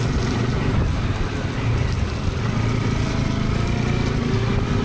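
Boat motor droning steadily on the Kerala backwaters at Alappuzha, a loud continuous engine rumble mixed with wind buffeting the microphone, no pauses throughout.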